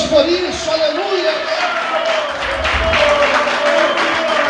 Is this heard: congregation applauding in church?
yes